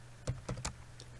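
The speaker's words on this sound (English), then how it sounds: "And if I type in" A few quick keystrokes on a computer keyboard while a command is entered into a Windows command prompt, soft close clicks over a faint steady hum.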